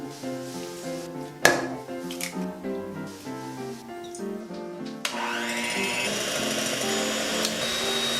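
An electric hand mixer whips egg whites for a light tiramisu sponge, giving a steady whirring drone with a couple of sharp clicks and a shift in pitch partway through.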